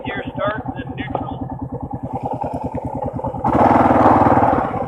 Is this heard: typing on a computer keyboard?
no